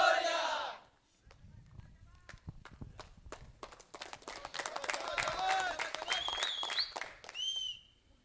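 Spectators at a local cricket tournament match clap and cheer in sharp, scattered bursts that build into a lively roar, after a brief voice at the start, with whistles near the end.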